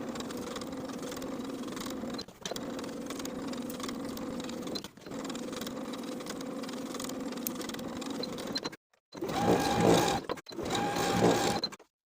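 A sewing machine edge-stitches the side and bottom edges of a back pocket on high-waisted A-line shorts, running in steady bursts of mechanical whirring with brief pauses between stitching passes.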